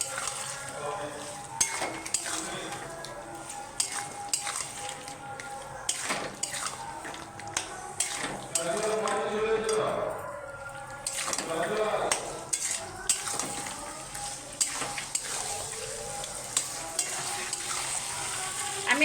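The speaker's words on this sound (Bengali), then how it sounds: "কাশ্মীরি লঙ্কা গুঁড়ো 1 চামচ দিয়ে আমি আবার নেড়ে নেবো মাংসটাকে।" Chicken stirred and fried in a pan with Kashmiri chili powder for a green chili chicken curry, a continuous close sizzle broken by repeated scrapes and taps of the spoon against the pan.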